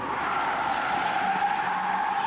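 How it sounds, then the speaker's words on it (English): Cars street racing inside a multi-storey car park, tires skidding and squealing in a continuous loud screech with engine roar echoing off concrete, no talk. "called to a multi-storey car park after complaints about street racing. They soon hear the action."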